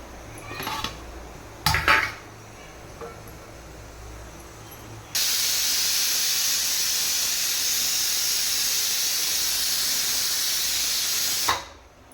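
A pressure cooker cooking rice on the stove releases a long, loud, steady steam hiss for about six seconds. Before it, a few brief kitchen clatters sound, and the hiss cuts off abruptly at the end.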